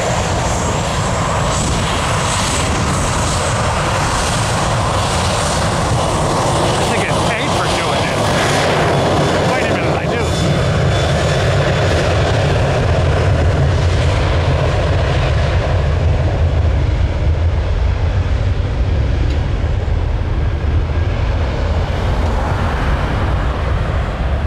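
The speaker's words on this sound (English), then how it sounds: "Oh! That's a good jet blast." Jet blast from airliner engines roars up close at Tampa International Airport, a loud, sustained, rushing engine roar that swells and slowly fades over about twenty-five seconds.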